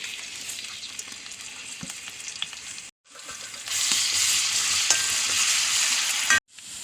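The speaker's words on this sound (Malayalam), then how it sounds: "എണ്ണ ചൂടായി, വെളുത്തുള്ളി ചുവന്നുള്ളിലേക്ക് ഇടുന്നു." Garlic and shallots fry in hot oil in a pan with a bright, crackling sizzle that swells louder partway through, broken by two brief pauses.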